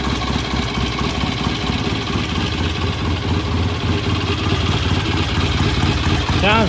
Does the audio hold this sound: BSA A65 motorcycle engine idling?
yes